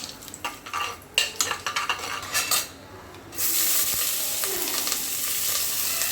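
Onions and curry leaves sautéing in oil with cinnamon, bay leaf, dried chilli and fennel for chicken fry: rhythmic spoon clatter against the pan first, then a sudden loud, sustained sizzle close by.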